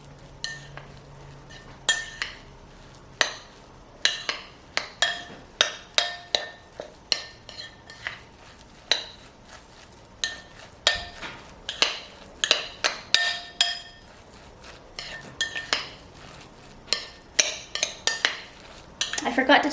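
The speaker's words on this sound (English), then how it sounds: "I'm just gonna mix it together." Vegan cauliflower pizza ingredients being stirred with utensils, bringing repeated clinks and scrapes of metal against a bowl in an irregular, steady rhythm, close and distinct throughout.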